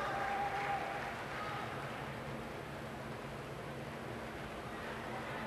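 Applause at a sports competition for a 26-year-old Indonesian athlete, a steady broad wash of crowd clapping that holds at an even level throughout, with no break.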